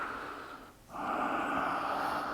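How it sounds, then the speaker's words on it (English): A single deep breath during a gentle yoga warm-up: a brief inhale, a short pause, then a long, steady airy exhale, close and soft with no talking. "Some deep breaths."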